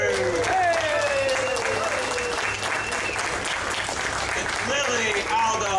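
Audience applause for a singing group at a WWII weekend event in Reading, a steady, dense wash of clapping throughout, with voices and cheers mixed in.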